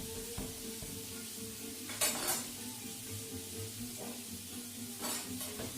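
Chopped pickles sizzle in a pan of oil or butter, overlaid with clinks and scrapes of a utensil stirring against the pan and a few sharper metallic knocks.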